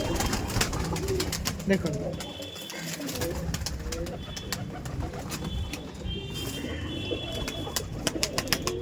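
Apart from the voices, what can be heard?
pigeons in a Punjab pigeon loft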